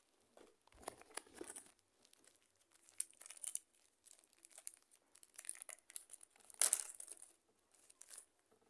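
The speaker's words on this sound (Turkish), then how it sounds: "bunların poşeti biraz zor açılıyor. O yüzden ben direkt yırtarak açıyorum." Foil wrapper of a football card pack being torn open by hand, with faint scattered crinkles and rips and one sharper tear near the end, quiet and close.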